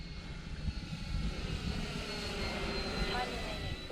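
A Draco-style model airplane's engine drones in flight with a steady, fairly faint whine, carried over open-air breeze noise.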